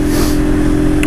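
A car engine runs close by with a steady, even low drone and hum that holds constant throughout, with no voices.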